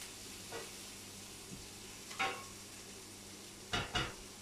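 Onions frying in a pan for a pork chop casserole, a quiet sizzle under several scraping stirs and clinks of the utensil against the pan, two close together near the end, no talking.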